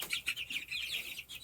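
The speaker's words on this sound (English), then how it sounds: "These are meat birds." Meat chickens huddled in a cold coop give a quick run of soft, high clucks and chirps close by, with no talking.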